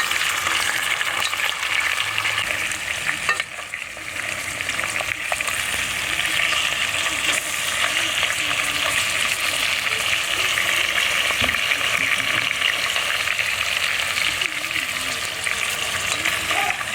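Steady, dense sizzling of food frying in a hot pan, continuous and fairly loud throughout with occasional stirring clatter.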